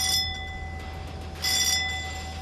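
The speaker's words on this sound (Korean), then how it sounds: "종소리와 함께 이튿날 아침" A ringing bell on an anchovy fishing boat at sea in the morning sounds two clear metallic strikes, one at the start and a louder one midway, each leaving a long humming decay over low engine rumble.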